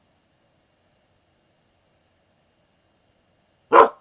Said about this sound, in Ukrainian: Собака перемогла і загавкала.